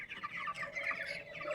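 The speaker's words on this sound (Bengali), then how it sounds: "দেখেন আমার মুরগিগুলো। এভাবে করে আমি মুরগিগুলো পালন করি।" Small flock of 23-day-old backyard chickens kept in a little space, chirping and clucking softly and continuously up close, with no talk over them.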